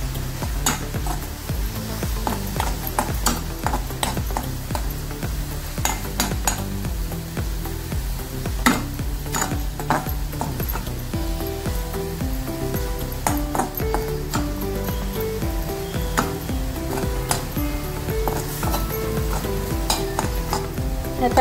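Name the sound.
stirring and frying diet paneer in a pan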